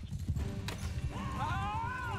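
Horses gallop in the medieval combat game Mount & Blade II: Bannerlord, a steady, rapid clip-clop of hooves beneath battle noise, with a horse's whinny rising over it in the second half.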